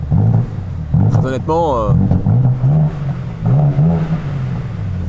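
A BMW M4 CSL engine revs with its exhaust valve open, one short rising rev heard close by while someone talks over the rumble.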